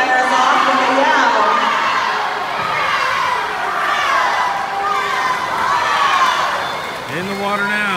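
Spectators at a 400 medley relay swim meet cheer and yell loudly and continuously as the butterfly swimmer dives in, a dense, echoing crowd roar with overlapping shouts.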